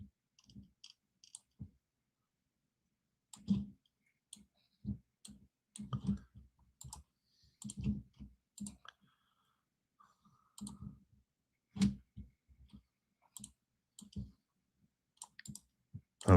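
A computer keyboard clacks in scattered bursts of typing, close and fairly quiet, with pauses of silence between the runs of keystrokes.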